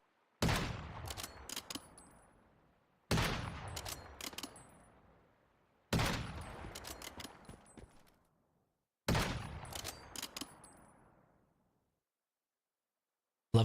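Gunshots in the Once Human video game come in four separate bursts, each a sharp close report followed by a few quick shots and a fading reverberant tail, with silence between bursts.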